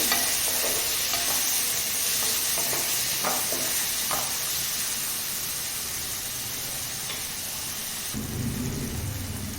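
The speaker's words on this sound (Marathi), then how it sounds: "अशी फोडणीमध्ये टाकायची त्यामुळे भाजीला तो फार छान येतो थोडंसं परतून घेऊया" Coriander crackles and sizzles loudly as it is sautéed in a hot spice tempering for a potato curry, under scraping of stirring. Near the end the frying deepens into a heavier roar.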